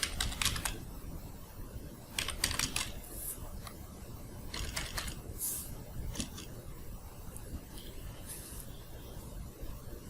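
Keypresses tick faintly on an Android phone while a Gmail username is entered, coming in short irregular clusters of light clicks separated by pauses, with no voice over them.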